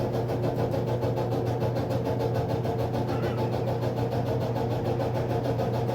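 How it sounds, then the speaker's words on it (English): A Samsung front-load dryer runs with a steady low rumbling hum and a faint grinding, bearing-like undertone, continuous and even throughout with no talk. "sounds like a bearing's about to go out or something in it"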